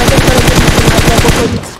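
Rapid gunfire in a PUBG Mobile custom-room squad match, a fast string of loud, close shots that fades out at the end.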